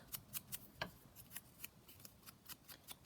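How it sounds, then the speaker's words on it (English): Scissors cut out a piece of card for a junk journal, a close, quiet run of crisp snipping strokes in an uneven rhythm, about a dozen cuts, with no talking. "So I just cut that out."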